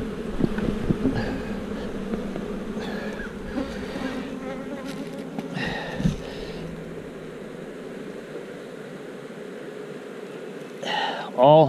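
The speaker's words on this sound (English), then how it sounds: "shake these bees in here." Dense, continuous buzzing of many honey bees close by as they are shaken from hive frames during a honey harvest, with occasional knocks and handling sounds and faint voices in the background.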